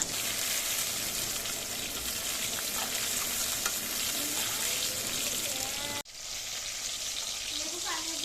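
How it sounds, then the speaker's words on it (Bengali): Ridge gourd frying in a pan for a light rohu fish curry: a steady, close sizzle of hot oil with occasional stirring scrapes, continuous until an abrupt brief break near the end, then resuming. "ঝিঙেটা ভাজা হয়ে গেছে"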